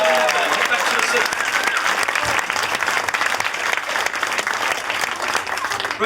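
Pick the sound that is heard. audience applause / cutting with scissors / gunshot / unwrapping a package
audience applause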